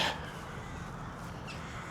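Crows cawing overhead in the early morning outdoors, a few rough calls against a quiet, hissy background, one at the start and a couple more shortly after.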